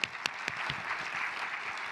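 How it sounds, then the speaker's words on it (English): Applause from a plenary audience at a global surgery conference, a dense steady wash of many hands clapping throughout, fairly quiet and distant, with a few sharper individual claps standing out near the start. "Round of applause again."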